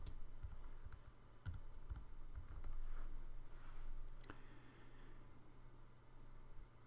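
Someone types text on a computer keyboard, a quiet, steady stream of fast clicking keystrokes with a few sharper taps, close up against faint background hiss and no talking.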